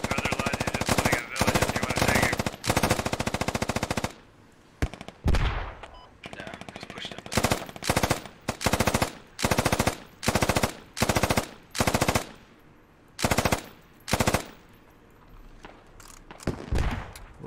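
A 240 machine gun in the video game Squad fires loud, close bursts of rapid automatic fire, one long run followed by many short repeated bursts separated by brief pauses.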